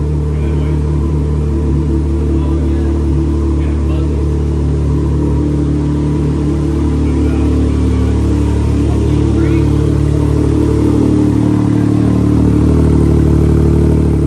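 A Can-Am X3 side-by-side with a custom turbo and standalone engine management idles steadily, a loud close low rumble that holds even throughout.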